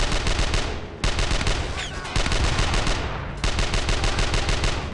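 Dense, continuous gunfire from the World War II shooter Brothers in Arms: Earned in Blood: rapid machine-gun bursts and overlapping rifle shots in a loud, sustained battle with only brief dips.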